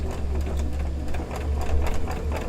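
A sewing machine stitches a quilt block, a steady close mechanical whir with a fast regular needle rhythm running continuously, with no talk over it.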